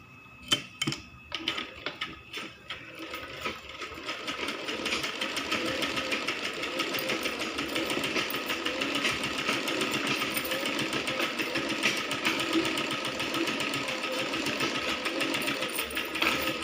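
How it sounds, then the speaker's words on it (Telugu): A sewing machine stitches the body of a baby frock, a steady rapid mechanical whirring after a few scattered clicks, close and moderately quiet with no talk. "బాడీ అనేది ఈ విధంగా స్టిచ్ చేసుకోవాలి."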